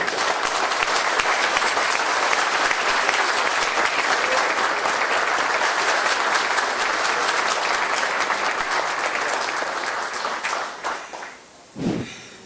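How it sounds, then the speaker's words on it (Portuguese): A lecture audience applauds for a long stretch, dense and loud, then the clapping thins out and stops near the end, followed by a brief low thump. "Uma salva de palmas para esse guerreiro aí."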